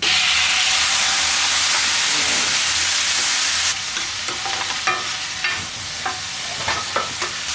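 Chopped tomatoes sauté together with other ingredients in a pan for chutney: a loud, steady sizzle and hiss, then scraping spoon strokes and clinks as the mixture is stirred.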